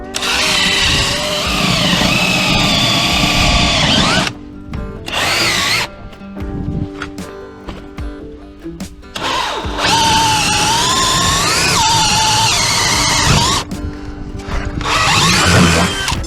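A power drill with a long bit whines loudly and steadily, boring through concrete foundation wall formwork in long bursts with brief pauses and clattering between runs.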